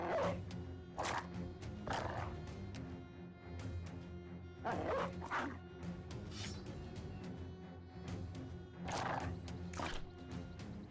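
Hound barking in the Battle Brothers video game, several sharp barks repeating at intervals over a busy mix of clattering combat and game sound.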